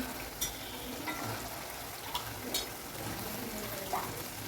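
Green turkey berries fry in oil with masala, giving a soft, steady sizzle with occasional stirring clinks close by.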